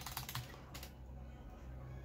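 Computer keyboard keys pressed rapidly while playing Sonic Superstars on PC: a quick burst of close clicking taps, then quiet room tone.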